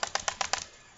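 A keyboard clicks five times in quick, even succession, close and crisp, then falls silent.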